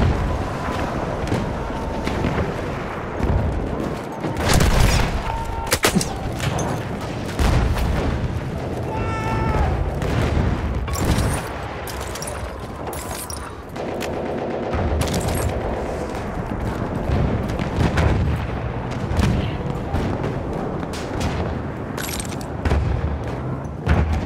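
Grenade blasts and dense gunfire rip through a Battlefield 1 multiplayer match, with booming explosions and rattling bursts overlapping continuously and shouted voices in German breaking through now and then.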